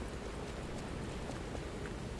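Steady rain falls in the game Lies of P, a soft, even hiss of drops that stays constant and faint throughout, with no talk.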